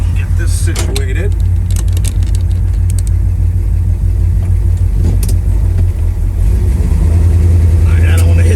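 Steady low rumble of a 1972 Chevrolet Chevelle 454 heard from inside while driving, a constant engine drone with small bumps and clicks on top that swells slightly louder toward the end.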